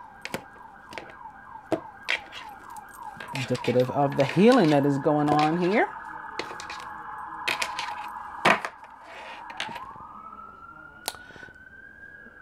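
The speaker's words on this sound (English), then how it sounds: "We got some sirens with us." A siren wails steadily in the distance, rising and falling, while someone speaks over it and scattered clicks and knocks punctuate the background.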